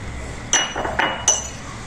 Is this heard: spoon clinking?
yes